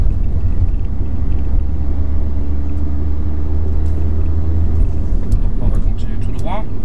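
A car accelerating through a traffic-light junction in Caen, a steady low engine rumble building under the road noise, heard from inside, with a voice speaking over it.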